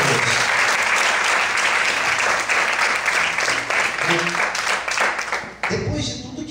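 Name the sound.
congregation applauding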